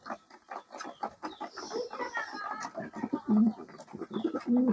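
Pigeons coo softly while feeding on grain in a loft, low rolling calls rising now and then over a busy background of shuffling, pecking and faint rustling, fairly close but quiet.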